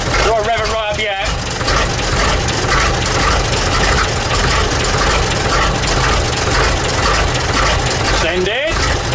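A vehicle engine abandoned for 40 years, now idling steadily after being started, a loud continuous low rumble throughout, with people talking over it.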